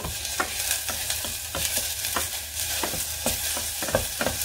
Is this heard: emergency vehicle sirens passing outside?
no